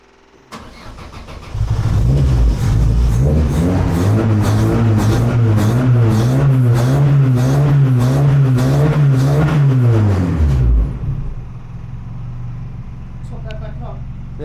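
A 1300cc stockcar engine starts and holds a loud, steady rev for several seconds with a rough pulsing note, then cuts off, leaving a quieter background where people talk.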